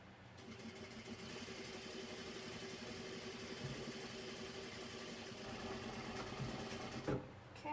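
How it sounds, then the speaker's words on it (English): A sewing machine runs steadily, basting the raw edge of a recessed zipper panel, its continuous mechanical hum and needle chatter holding even for about seven seconds before a brief stop and restart. "And now we get to just baste this raw edge."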